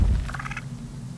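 A turkey in the video game Ark Survival Ascended, on the Valguero map, lets out a short warbling gobble, a quick rattling series of notes over a low rumbling game background.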